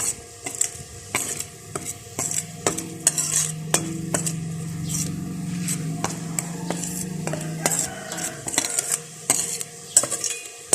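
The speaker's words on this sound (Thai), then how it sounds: "ผัดพริกแกงให้สีแดงงาม" Red curry paste stir-fried in a pan for a spicy Thai pork and eggplant curry: a metal spatula scrapes and clanks against the pan in frequent sharp strokes, close and fairly loud, over a soft sizzle.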